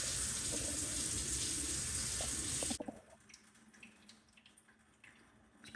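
A household tap trickles as the pipes drain down, a steady hiss of flowing water for a few seconds that abruptly drops away to faint, sparse drips.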